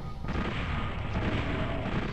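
Dense, continuous burst of rapid machine gun fire from the Nintendo 64 game Doom 64, with heavy low booming, sustained for a couple of seconds without pause.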